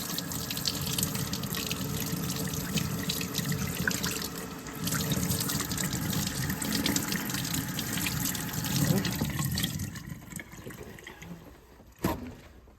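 Steady rushing cold water from a tap pouring and splashing into a sink over a part being rinsed, running continuously before cutting off near the end with a final clunk.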